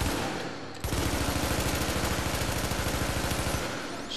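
A rifle fitted with an extended magazine fires in The Division, a long rapid automatic burst of close, loud shots in a steady rhythm that runs for several seconds after a brief lead-in.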